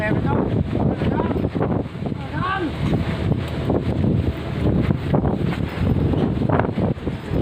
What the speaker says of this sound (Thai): พี่น้องได้ยินเสียงลมเนาะ